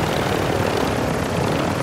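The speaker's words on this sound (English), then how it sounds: "It's because they can see the helicopter, innit?" A helicopter flies overhead in a video game, with a loud, steady rotor and engine roar that continues without a break.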